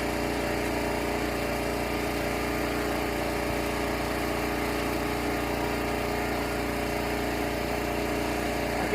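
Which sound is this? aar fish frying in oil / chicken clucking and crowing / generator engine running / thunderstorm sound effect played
generator engine running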